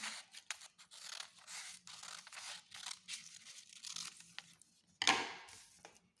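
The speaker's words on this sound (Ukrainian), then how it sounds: "Далі, тримаючи папір ось так складений вдвоє, я зрізаю по лінії" Scissors cut along a line through folded paper for a children's appliqué craft, giving soft, quiet crinkly snips with a brief louder crunch near the end. Nobody talks over it.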